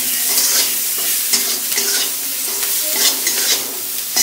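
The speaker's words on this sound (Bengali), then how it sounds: "একটু ভেজে নিই।" Onion and garlic frying with turmeric in a pan, a steady loud sizzle broken by repeated scraping stirs, close up with no talking.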